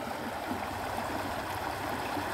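Water seeping through a leaking cofferdam during dam wall repairs at Boqueirão de Piranhas, flowing as a steady, close rushing stream with continuous gurgling and no breaks.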